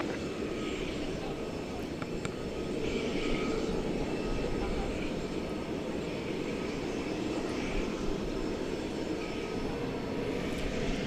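An airplane taxis at DFW Airport toward runway 18 left at night, a steady, moderately distant engine drone with a rumbling low end that holds evenly throughout.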